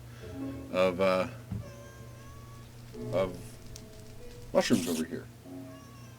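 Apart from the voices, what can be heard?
cat meowing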